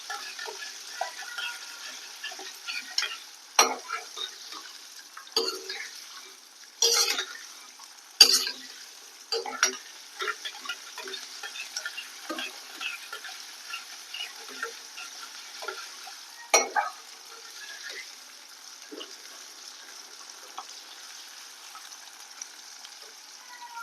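Small shallots frying in a pan for vatha kuzhambu, a steady quiet sizzle broken by several sharp stirring scrapes and clicks, with no talk.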